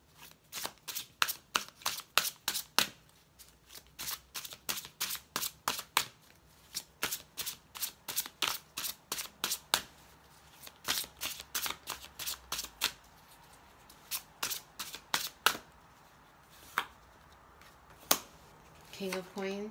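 Slippery tarot cards shuffled by hand, a long run of quick crisp riffling snaps at an irregular rhythm, close and clear, with a few pauses between bursts.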